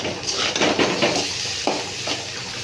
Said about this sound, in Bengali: মশলা একটু কষে নেবো